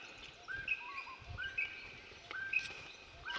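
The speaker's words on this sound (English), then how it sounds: "There's just tons of birds around." Several birds chirp and whistle in short scattered calls at sunrise outdoors, faint and somewhat distant, with quiet background and no talking.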